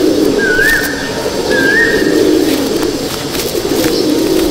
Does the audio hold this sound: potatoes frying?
no